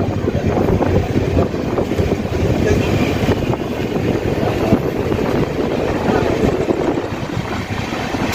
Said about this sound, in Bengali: বেলদা স্টেশন ছেড়ে আমাদের ট্রেন বেরিয়ে গেল